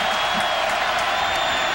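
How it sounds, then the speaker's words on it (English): Dense football stadium crowd noise at a Florida State vs Clemson game, a loud continuous roar with faint whoops rising out of it. "the crowd getting louder by the minute"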